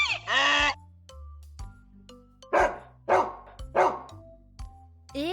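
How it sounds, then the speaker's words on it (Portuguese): A dog barks several times in short, loud, separate bursts, with brief pauses between them. "Esse é o som do cachorro. Escute quantas latidas."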